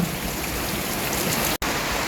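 Heavy rain pours down onto garden plants and leaves, a dense, loud, continuous hiss of drops hitting the foliage, with one brief dropout near the end.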